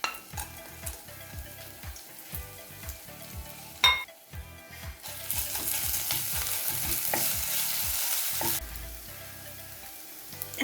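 Ginger garlic paste and chillies fry in a pan for devilled beef, with rapid rhythmic spoon scrapes and taps, then a loud, steady sizzle swells up as the ingredients hit the hot oil.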